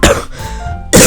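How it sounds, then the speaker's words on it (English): A short throat-clearing cough bursts out near the mic, followed by a brief pause and a second harsh cough. "then it got me coughing"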